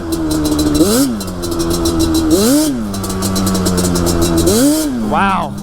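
A Yamaha Banshee two-stroke ATV engine revs up close and loud, with three rising-and-falling throttle blips over a buzzy idle and a final sharp rev at the end.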